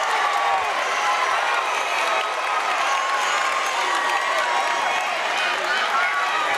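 A basketball crowd at a regional quarterfinal high school game cheers and applauds loudly after a basket and foul, a dense, sustained roar of voices and clapping with no break.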